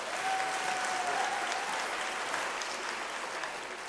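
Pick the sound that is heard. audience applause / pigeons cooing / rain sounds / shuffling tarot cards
audience applause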